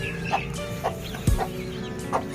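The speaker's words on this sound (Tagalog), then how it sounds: "Ito ang laki ng tandang na to, kapitbahay namin." A large rooster in a backyard chicken coop gives a few short clucks at a steady pace, close and moderately loud over a constant low hum.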